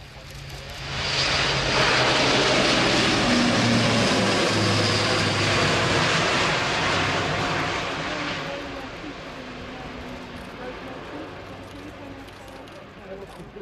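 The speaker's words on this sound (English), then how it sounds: "a superb takeoff, obviously in a relatively lightweight configuration, but just hanging on the power of those very powerful turboprops" An Airbus A400M Atlas turboprop military transport takes off during an airshow flying display, its powerful propeller roar swelling quickly to a loud, sustained rumble and then slowly fading as it climbs away, with a commentator talking over it.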